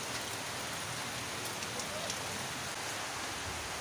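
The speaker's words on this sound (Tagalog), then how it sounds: "Kamo na kay sige na mag-ulan." Heavy rain falls steadily during a flood, a dense, even hiss close by that holds throughout with faint voices underneath.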